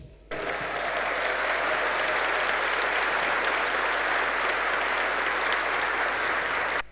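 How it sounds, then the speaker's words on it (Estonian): A concert audience at Idla day bursts into sustained applause, dense and even, holding steady for several seconds before cutting off. "tehke neile suur aplaus"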